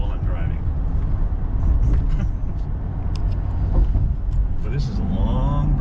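Steady road rumble and engine noise from inside a moving car crossing a long bridge near Lake Michigan, continuous and close, with someone talking over it throughout.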